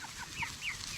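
Pastured farm chickens give a short burst of soft overlapping clucks and chirps, close but fairly quiet, with no voices.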